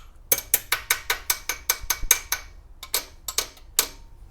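A ratchet clicks in a quick run of about ten even strokes, then a pause and a few more clicks, while the carburetor on a 1982 Chevy pickup is adjusted; the sound is close and clear with no talking.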